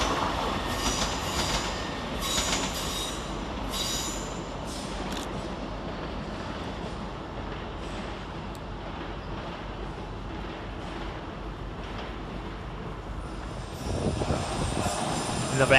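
A Great Western Railway class 800 unit, 800 006, pulls out of London Paddington, a steady rolling rumble of wheels and traction under the station roof with bright squealing bursts early on and a louder swell near the end.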